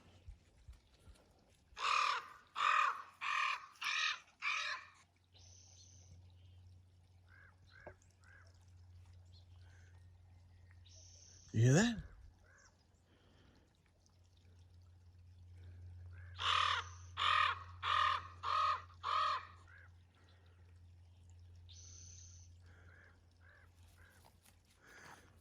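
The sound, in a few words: crow call device imitating crows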